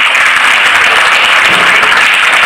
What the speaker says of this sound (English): Would request a big round of applause for Michael.